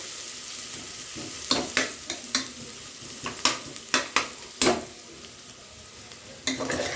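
Ingredients for kushka frying in a pan until golden brown, a continuous sizzle broken by a series of sharp stirring scrapes and clacks of a spatula against the pan, loud and close, with no talking.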